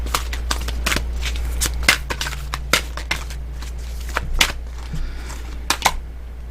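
Oracle cards are shuffled and drawn, a quick run of crisp riffling slaps and flicks in an irregular rhythm, close and clear over a low steady hum.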